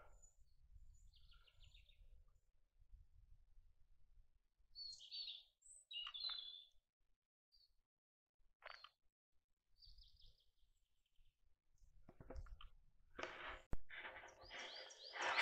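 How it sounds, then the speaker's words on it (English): Birdsong near a ford on Conic Hill at Loch Lomond: soft, scattered chirps and tweets over quiet outdoor ambience, ending with a denser, louder flurry of calls. "You can listen to all the birds."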